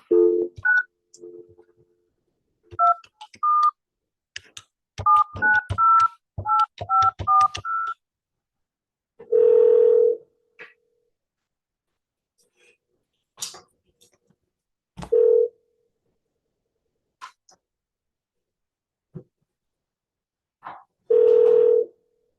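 Telephone keypad tones beep in a quick series of short dialing bursts, followed by a few longer dial-tone pulses spaced apart with silence between, heard close and clear.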